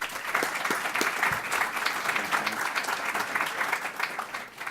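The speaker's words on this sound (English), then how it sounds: "let's give a big round of applause" A summit audience applauds steadily for several seconds, a thick wash of many hands clapping at moderate distance with occasional sharper claps standing out, tapering slightly at the end.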